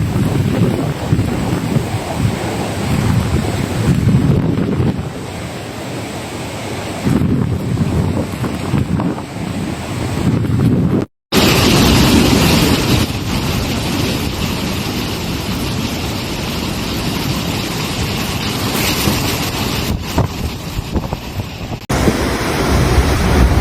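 Super typhoon winds near 180 km/h roar continuously over churning waves at Zhanjiang, China, with heavy wind buffeting the microphone, broken by one brief cut midway.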